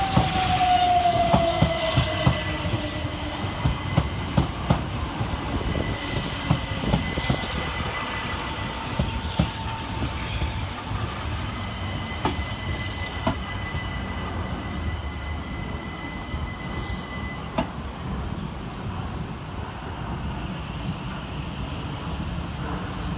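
A Southern Railway Class 377 electric multiple unit arrives at Clapham Junction with a brief squeal of wheels at the start, then a steady rumble and rhythmic clatter over the rails, near and loud without any talking.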